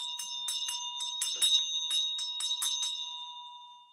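A large 8-inch brass handbell rings loudly and close by, struck in a quick, uneven string of about a dozen bright, sustained clangs that overlap into a continuous shimmering ring.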